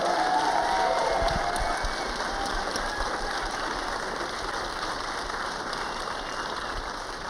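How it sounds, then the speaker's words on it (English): Sustained applause from an awards show audience, a dense, steady roar of clapping that starts loud and slowly eases off across several seconds, with no voices above it. "Let's give all of our filmmakers one more round of applause"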